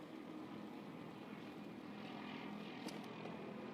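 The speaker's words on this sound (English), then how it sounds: "First time I've heard the police chopper in a while." A police helicopter circles over a quiet downtown Louisville street corner during protests, its steady rotor and engine drone continuous and moderately distant throughout, with no talking.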